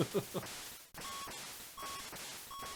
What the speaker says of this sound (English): It's just kind of this annoying beeping noise.